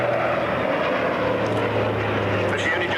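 A B-24 Liberator four-engine propeller bomber flies at an airshow at Boscombe Down, producing a loud, steady droning engine roar throughout.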